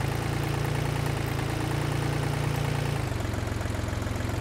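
A tractor engine in the video game Workers & Resources runs at a steady, even drone, with a slight shift in pitch partway through and no talk over it.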